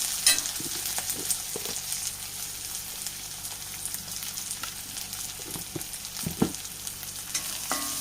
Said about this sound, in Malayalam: അതൊക്കെ ഒന്ന് വഴറ്റിയെടുക്കാം കുറച്ച് ഉപ്പും ചേർത്തെടുക്കാം